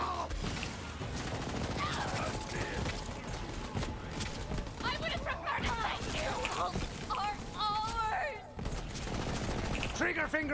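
Rapid bursts of gunfire ring out in the shooter video game Borderlands 3, dense and loud throughout, with game voices and effects layered over the shots.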